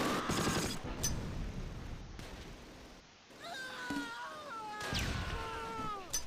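MG42 machine guns fire in crossfire bursts in the Close Combat: Last Stand Arnhem war game, with dense rattling volleys at the start and end and a pause in between.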